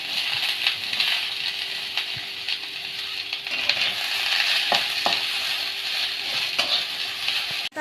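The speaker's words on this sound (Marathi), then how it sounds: "आता आपण कांदा चांगला लालसर होईपर्यंत भाजून घेऊ." Onion frying in a pan and stirred until reddish makes a loud, continuous close-up sizzle, broken by repeated scraping strokes of the spatula, with no voices.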